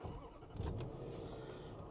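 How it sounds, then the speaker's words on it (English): A Land Rover LR4/LR3 engine cranks and catches, settling into a low, steady idle rumble, faint and brief. "And then you want to start the truck."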